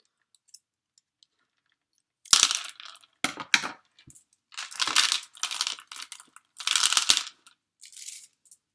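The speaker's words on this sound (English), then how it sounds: "I'm gonna empty all the beads into this bowl" Bracelet beads are poured into a child's bowl in several rattling, crunchy bursts of clattering, with short pauses between pours and no talking.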